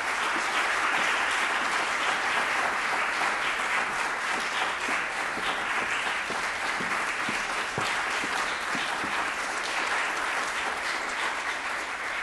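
Audience applause at an outdoor villa summer concert, a long, even patter of many hands clapping at moderate distance, sustained throughout without any speech over it.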